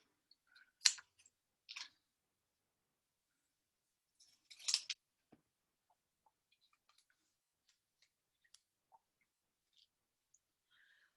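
Scissors snip through paper word cards in a few crisp close cuts, two quick snips followed by a longer crunching cut, then faint paper handling ticks in near silence.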